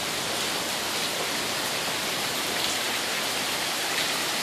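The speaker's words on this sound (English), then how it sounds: "that's little hail up on top of the pool screen" Small hail patters steadily on a pool screen enclosure in Florida, a dense, even hiss of countless tiny impacts with no pauses.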